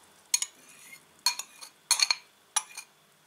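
A metal spoon stirs salt into water in a small kitchen pot for pickling herring, giving four separate bursts of bright clinking scrapes against the sides, close and clear against quiet, with no talk.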